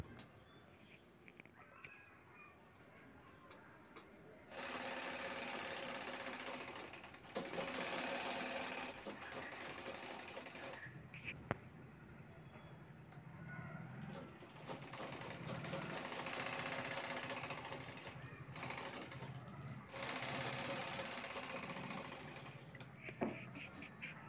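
Sewing machine stitching handbag pieces onto a zip, running in long steady bursts with brief stops in between, close by, with faint background noise.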